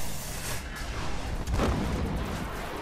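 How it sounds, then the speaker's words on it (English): A grenade blast in the Destiny shooter game, a deep booming burst that swells mid-clip over a dense, continuous wash of in-game combat noise and rumble, with no talking. "Cool grenade type there."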